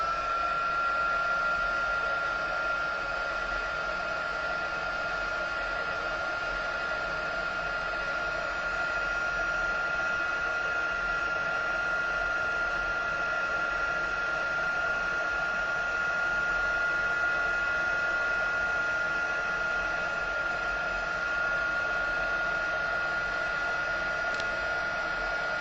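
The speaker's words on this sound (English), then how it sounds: "So the heat tool does get quite warm, so I'm going to hold this down and just bear with me while I heat this up." Heat tool blowing hot air to heat-emboss a handmade card, a steady broadband whirring hiss with a faint tonal whine that runs unbroken and fairly close throughout, with no talking.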